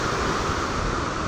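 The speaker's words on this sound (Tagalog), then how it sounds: "Sobrang lakas yung hangin at saka ulan." Strong wind and heavy rain lash a flooded area in Noveleta, Cavite, as a loud, dense, continuous roar with no break.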